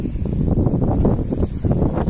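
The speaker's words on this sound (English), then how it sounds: "It's very windy" Strong wind on a farm buffets the microphone with a steady, heavy low rumble that barely lets up across the whole stretch.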